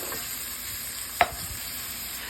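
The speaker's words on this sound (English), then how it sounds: "Now, we saute for a little while until the veggies are a little soft." Chopped vegetables sauté in a pan for a Sicilian bolognese, a steady soft hiss and crackle with one sharp utensil tap midway, no speech.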